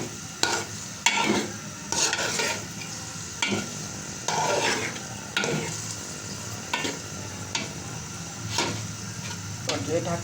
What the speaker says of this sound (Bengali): এখন ভালো করে কষিয়ে নিতে হবে।